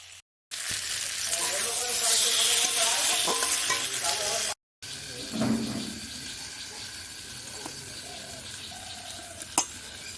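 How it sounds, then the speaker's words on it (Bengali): Potatoes and spices with asafoetida sizzle and fry in a hot pan, a loud steady hiss that cuts off briefly, then returns softer with scattered stirring clinks and a faint voice. "হিংটা দিয়ে ভালো মতো কষিয়ে আলুটা দিয়ে দেবো"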